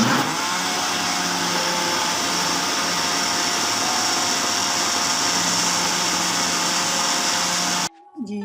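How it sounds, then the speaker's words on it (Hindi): A blender whirs steadily, blending a mixed fruit milkshake with milk, a loud continuous motor drone that holds for about eight seconds, then cuts off abruptly. "मिक्स फ्रूट मिल्क शेक को अच्छे से हमने ब्लेंड करना है"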